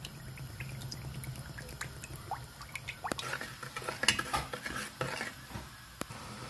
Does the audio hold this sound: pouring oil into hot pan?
yes